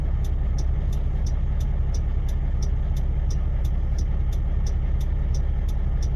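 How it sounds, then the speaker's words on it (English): A snow plow truck drives along an icy valley road in winter, its steady engine rumble continuous and fairly loud, with a regular ticking or clinking repeating through the sound. "Plow truck is heading back down."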